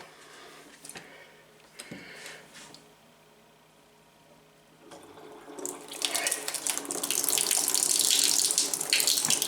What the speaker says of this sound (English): That's the shower running out.